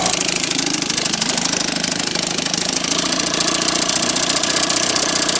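A 1959 Johnson 3 hp outboard motor runs steadily with a loud, even buzzing putter and a rapid regular knock that stays constant throughout, with no voices.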